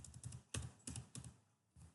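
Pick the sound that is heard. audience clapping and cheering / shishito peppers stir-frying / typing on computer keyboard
typing on computer keyboard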